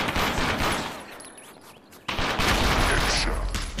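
Rapid gunfire from trick shots in an Aim Xr video game, a dense continuous burst of shots that dips briefly and then resumes louder, with no talk over it.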